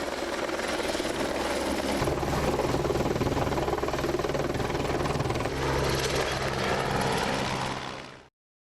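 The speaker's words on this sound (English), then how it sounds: "helicopters are used to drop bags of stone on the fells" A helicopter drops bags of stone onto fell paths, its rotor thudding loud and steady at close range throughout, the roar swelling slightly near the end before cutting off.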